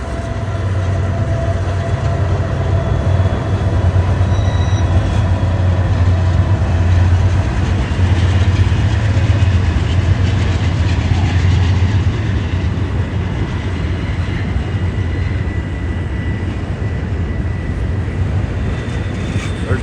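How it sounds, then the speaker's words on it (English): A train rumbles past at close range in Kenova, West Virginia, a loud, unbroken roar with rail clatter that holds for the full twenty seconds before easing slightly toward the end. "We got another train coming."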